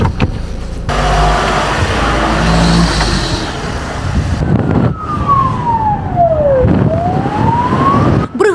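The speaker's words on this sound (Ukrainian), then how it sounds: "бригада швидкої допомоги виїжджає на виклик" Ambulance siren wailing loudly as the crew pulls out on a call, a sweeping up-and-down tone rising and falling close by over vehicle rumble, after a brief burst of engine noise.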